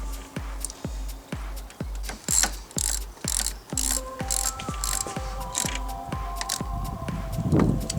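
A ratchet wrench tightens the bolts on an EGR valve blanking plate on a 1.9 CDTi diesel engine, giving a steady run of sharp, close ratcheting clicks in an even rhythm that grow busier toward the end.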